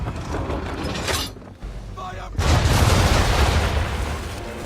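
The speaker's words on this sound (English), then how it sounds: "Bring around broadside, and when all guns are on target, call fire." Ship cannons fire a broadside in the video game Assassin's Creed 3, a dense rumbling roar of booms swelling loud and sustained after a brief lull, with mechanical clatter beneath.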